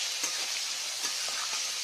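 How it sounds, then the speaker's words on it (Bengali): Tomatoes fry in a pan for fish curry, a steady close sizzle with a few soft stirring scrapes and no voices. "বিলাতিটাকে ভাজে ভাজে লাল করবে"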